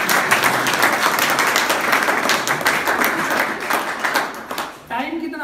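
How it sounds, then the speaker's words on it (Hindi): Audience claps on cue at a Hindi-language talk: loud, dense, continuous applause for most of the moment, then tapering off near the end as a voice starts. "ताली बजा"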